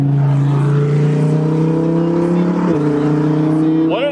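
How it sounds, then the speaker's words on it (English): A Lamborghini passes by outside in poor weather, a steady loud engine drone with a slight pitch drop as it goes past, heard near and continuous. "We got a nice Lambo that just passes by."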